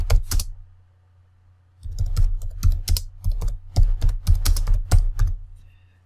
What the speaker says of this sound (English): you just begin to type